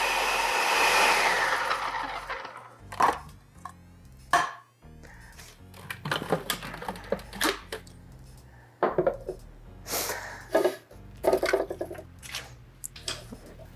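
A Ninja Professional food processor running, with a loud whirring burst at the start, then repeated short chopping and pulsing bursts as food is pushed down through the feed chute, alone with no talk.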